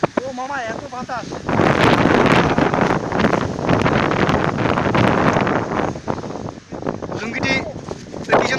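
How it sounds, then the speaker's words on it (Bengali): Strong gusts buffet the microphone outdoors, a heavy continuous rumble that swells after the first second and holds steady, with a voice talking briefly at the start and end. "ও মামা এত বাতাস।"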